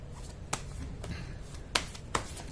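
Hindi tarot cards are handled and shuffled, giving a few sharp papery snaps and flicks spaced apart over soft rustling, close and quiet, with no talk.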